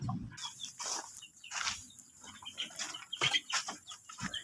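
Pet chickens cluck and squawk at feeding time, a busy cluster of short calls from several birds, near and moderately loud with scratchy background noise.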